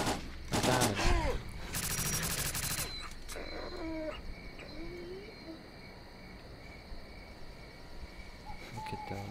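Gunfire rattles in the video game S.T.A.L.K.E.R.: Clear Sky, with loud rapid bursts in the first few seconds that give way to quieter ambience of birds and insects, with a few faint distant pops.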